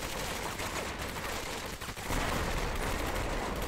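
Gunfire in Medal of Honor: Vanguard rattles in continuous dense volleys, a mix of rapid automatic fire and scattered shots at steady loudness.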